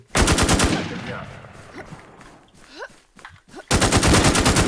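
Rapid automatic gunfire bursts from a shooting video game, loud and dense at the start, then a lull with scattered game effects, before another sustained full-volume burst at the end.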